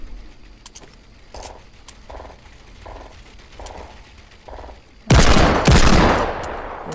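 Desert Eagle pistol shots in Fortnite Battle Royale: a series of evenly spaced, sharp reports, followed by a much louder, dense burst of rapid gunfire near the end.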